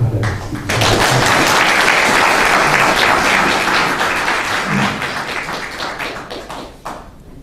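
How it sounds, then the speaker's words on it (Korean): A large audience at a Korean national movement's launch rally claps warmly to welcome a pastor to the stage, a loud full burst of applause that holds steady and then slowly thins out toward the end. "우리가 아주 열렬한 박수로 환영해 주시기를 바라겠습니다"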